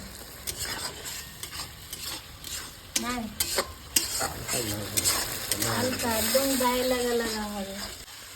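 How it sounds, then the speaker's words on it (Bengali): Spices and onions frying in a pan for a home-style khoira fish curry, a steady sizzle broken by stirring and scraping, with a voice talking over the cooking throughout. "ভালো করে ভেজে নেবে পেঁয়াজের সঙ্গে ভেজে নেবে যাতে কাঁচা গন্ধটা চলে যায়"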